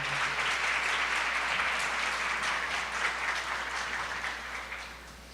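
A church congregation applauds to welcome a pastor, a dense, steady wash of many hands clapping that stays loud throughout and tapers slightly near the end.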